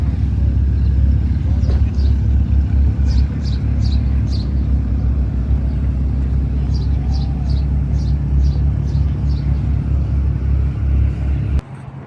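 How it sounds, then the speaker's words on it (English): BMW cars pull up at a car meet, their engines producing a loud, continuous low rumble close by, with people talking and faint birds chirping above the noise. "BMW boys pulling up."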